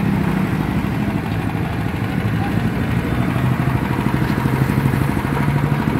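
A Quick Capung Metal mini hand tractor's small diesel engine runs steadily nearby at a rice field, a continuous low chugging rumble with rattling clatter and no pauses.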